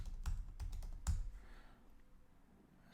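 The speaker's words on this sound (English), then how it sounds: "So I'm typing a password." Several sharp keystrokes on a computer keyboard as a password is typed, a quick irregular cluster of clicks in the first second, then quieter room tone.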